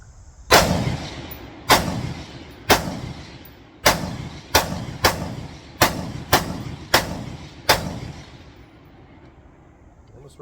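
Nine sharp gunshots from a CMMG BR4 rifle fired at a target outdoors, loud and close, spaced irregularly about a second apart with short echoing decays.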